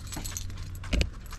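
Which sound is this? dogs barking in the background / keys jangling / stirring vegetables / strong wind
keys jangling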